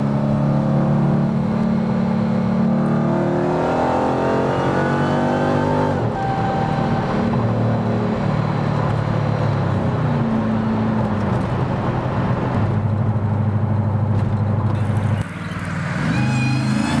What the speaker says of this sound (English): So let's go full throttle